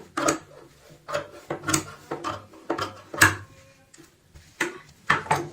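A sewing machine stitches and cuts a cloth doormat in short, close bursts of rapid mechanical chatter separated by quiet pauses, about eight runs of varying length.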